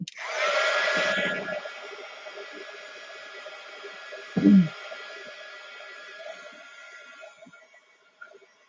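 Hair dryer blowing briefly at close range for about a second, then cutting off, leaving a faint lingering hum with a short thump midway.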